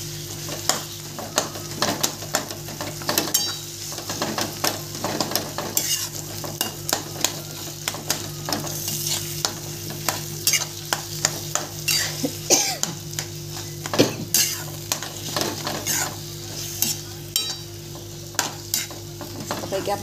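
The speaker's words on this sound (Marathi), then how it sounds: "आता हे वांगे टाकते भाजलेले." Roasted eggplant for bharit stirred in a pan, a spoon scraping and clinking in a steady irregular rhythm against a continuous close sizzle of frying, with no talk.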